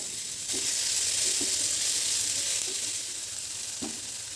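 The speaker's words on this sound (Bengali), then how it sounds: "আদা রসুনের সাথে পেঁয়াজটাকে খুব ভালো করে কষে নিতে হবে" Onion sautéed with chopped ginger and garlic in a pan hisses in a steady, close sizzle, with occasional soft knocks and scrapes of stirring.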